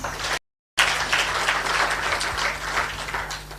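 Audience applause at a public launch event after a speech, steady crowd clapping interrupted by a brief dropout of silence near the start, then continuing evenly.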